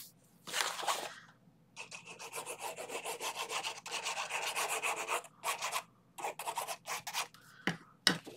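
Paper being burnished for a Halloween-themed photo wallet craft, a series of dry rubbing strokes in bursts with short pauses, close and fairly quiet.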